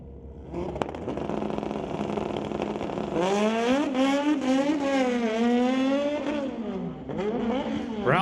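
Motorcycles, a 2008 Suzuki and a 2019 Kawasaki, launch side by side in a street-legal drag race at a raceway, engines revving high and climbing through rapid gear shifts, loud and close, with a final rising rev.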